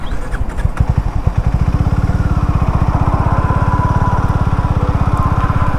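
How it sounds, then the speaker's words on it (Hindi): Harley Davidson X440T motorcycle engine, nearly out of petrol, runs with a steady rapid low thumping pulse and mechanical clatter, close and loud, after a few uneven bursts at the start. "भाई बाइक यहाँ पर झटका मार चुकी है, पेट्रोल इसका खत्म होने वाला है बहुत जल्दी ही।"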